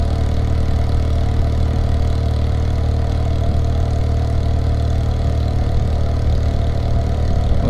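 An old Yamaha XS650 motorcycle idles close by, its parallel-twin engine giving a steady, loud, low throbbing rumble with no change in pace from start to finish.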